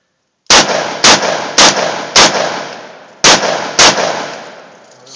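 Six loud, sharp shots from a Chiappa Rhino revolver with a modified trigger, fired at a shooting range in an uneven sequence: four in quick succession, a pause, then two more, each with a ringing tail.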